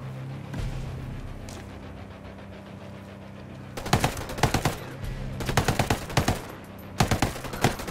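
Gunfire rattles through a Tom Clancy's Ghost Recon match, with a faint distant shot early on and then loud close bursts of rapid automatic fire in three separate volleys, short pauses between them.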